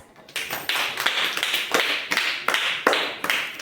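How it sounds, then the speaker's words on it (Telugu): Children clapping together in a classroom, a burst of quick rhythmic applause that comes in several clustered rounds, fairly close and lively, with no talking over it. "క్లాప్స్."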